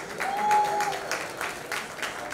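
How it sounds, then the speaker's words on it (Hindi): Audience applause welcoming a guest onto the stage at a grand global unveiling and celebration, a steady dense clapping that swells slightly and holds throughout without speech. "जोरदार ताली स्वागत कीजिए शान के लिए"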